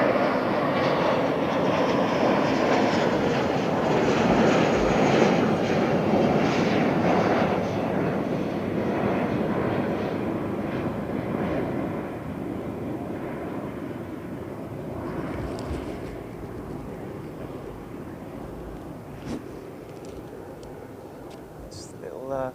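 An Airbus A340-300 airliner at London Heathrow Airport, a loud, broad jet engine roar that slowly fades over about twenty seconds while someone talks over it.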